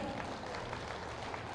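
A crowd at a mega vegetarian non-violence rally in Armoor applauds in a continuous, even patter that sounds fairly distant and subdued throughout.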